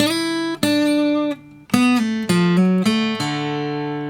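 A clean electric guitar plays a short melodic phrase from a guitar solo, sustained notes with a bend, a brief pause midway, then ringing notes that fade out.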